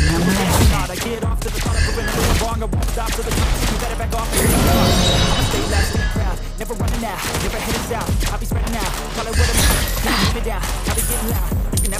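Lesley's rapid gunshots in the mobile game Mobile Legends, sharp repeated bursts and impacts layered with game effects and music, loud and busy throughout.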